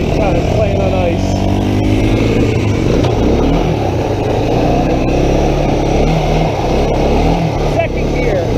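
An ATC three-wheeler's engine revs loudly and steadily while riding on ice, with shifting pitch from throttle changes. The vehicle is close, and people talk over it.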